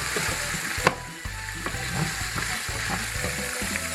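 Onion, garlic and sweet peppers sizzle gently in a pan over medium heat, with a sharp clatter of stirring near the start and scattered utensil scrapes over a steady soft frying hiss.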